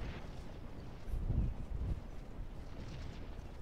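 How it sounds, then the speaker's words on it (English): Artillery fire in the Scourge of War Civil War game (Antietam): two dull, distant low booms rumble out of a quiet background, close together near the middle, with no talk over them. "artillery's firing into them"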